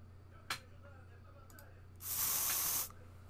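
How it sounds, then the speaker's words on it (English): A spray bottle gives one short, crisp hiss of spray lasting nearly a second, preceded by a small sharp click, in an otherwise quiet room. "Does this sound like a spray bottle?"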